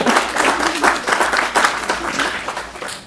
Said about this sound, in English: Oh, everybody wants to applaud for you.